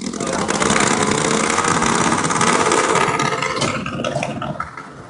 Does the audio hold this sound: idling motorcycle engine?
yes